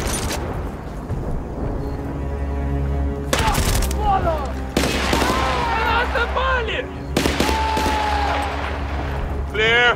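Artillery blasts and gunfire from the video game Battlefield Bad Company 2, heavy booms and bursts of shots recurring through the scene with a voice shouting between explosions.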